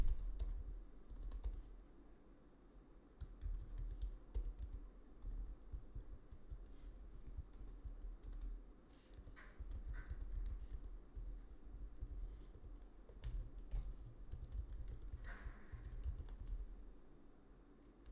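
Quiet typing of an email address on a Mac computer keyboard, a run of soft, irregular key clicks close by, with no talking.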